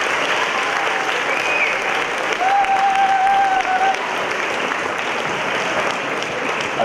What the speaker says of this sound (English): So if we can give a round of applause for the SAD program.